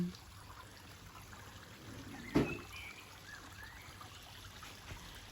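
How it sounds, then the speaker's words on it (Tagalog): Faint, steady trickle of water in an indoor room with a water lily pond, a soft continuous wash with one brief louder splash or knock partway through. "Ganda ng tunog ng tubig."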